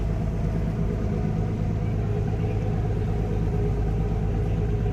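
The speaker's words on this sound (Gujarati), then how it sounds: "તો એક બોટ આમ જાય છે।" A fishing boat engine passing on the water, a steady deep rumbling drone that holds at an even level throughout, fairly close, with no voices.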